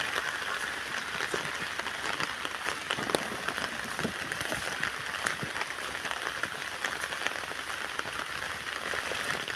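Steady, heavy rain pours down, a dense continuous patter on surfaces with no break throughout.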